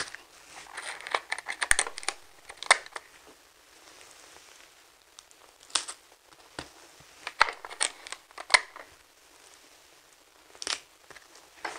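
Paper sewing pattern pieces being taped together: scattered close crinkles, rustles and sharp tape snaps and tears come in irregular clusters, fairly quiet and with no talking.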